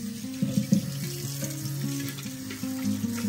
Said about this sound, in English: we're gonna take it over to the sink and give it a good rinse